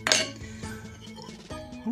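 A sharp metal spoon clinking against a dish, with a bright ringing strike at the start and a few lighter taps afterward, close and clear.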